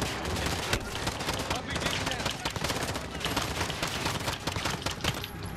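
Dense, sustained gunfire in Call of Duty Modern Warfare, with rapid automatic bursts and overlapping shots in a loud firefight, continuous from start to end.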